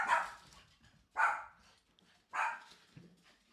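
A dog barks three times at a steady, evenly spaced rhythm, moderately close and alone.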